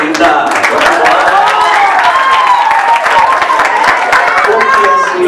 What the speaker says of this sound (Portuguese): Salve de palmas pra Linda!